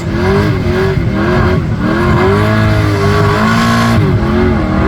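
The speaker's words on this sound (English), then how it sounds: "Listen to that V8 and that Mark 1." A V8-powered car and a Volkswagen Golf Mark 1 do burnouts together in a burnout box at a race event, engines held at a loud, steady high rev with wavering pitch, a continuous dense roar close by with no talk.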